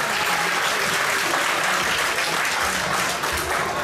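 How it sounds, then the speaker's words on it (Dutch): A crowd at the Fight Dome 6 fight event applauds two fighters, a dense, loud, continuous wash of clapping throughout. "mag ik eerst een groot applaus voor deze twee vechters"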